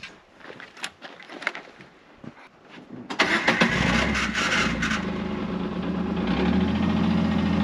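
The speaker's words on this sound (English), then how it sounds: "I'm gonna try to start it." A side-by-side UTV that may have a fault crank and sputter for a few seconds, then catch and run at a steady, loud idle, close by with no talking.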